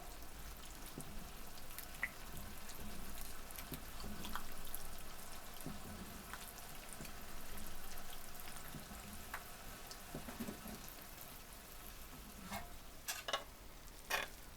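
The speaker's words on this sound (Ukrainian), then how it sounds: "І підсмажу. цибульку." Chopped onion frying in a pan for a canned eggplant and bean salad, a soft continuous sizzle with occasional stirring scrapes and pops, faint and steady throughout.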